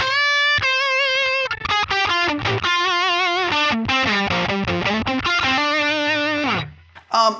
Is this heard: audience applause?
no